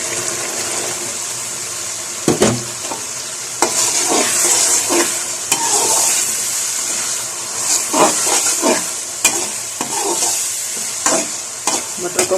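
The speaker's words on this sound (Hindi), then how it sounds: "मटर को भी भून लूँगी।" Green peas frying with masala in a pan sizzle and hiss steadily while a spoon repeatedly clacks and scrapes through them in uneven bursts, close and fairly loud, with no one speaking.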